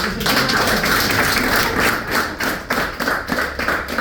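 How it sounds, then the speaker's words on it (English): Sustained clapping from a class of secondary school students in a creative writing lesson, a dense continuous patter of many hands in a room, fairly loud and steady with slight swells and no speech. "we didn't clap him, did we?"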